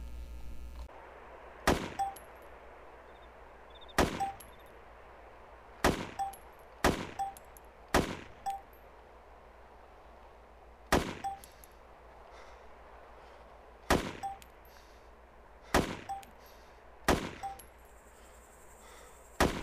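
Single shots from an AK variant assault rifle in DayZ sound in a quick series of about ten sharp, loud cracks. Each crack is followed by a short metallic ring, and there are brief uneven pauses between shots.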